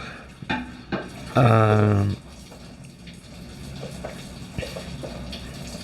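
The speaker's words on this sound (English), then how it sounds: "If you guys hear that noise in the background, my husband's making dinner." Kitchen sounds while dinner is being made at home: a brief burst of running tap water into a sink amid scattered clinks of dishes and cutlery, moderately close, with quieter handling noises afterward.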